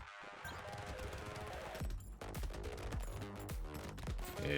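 Rapid SMG fire in the game Brotato, dense clattering bursts and hits layered over busy game audio, continuous and fairly close, no talk.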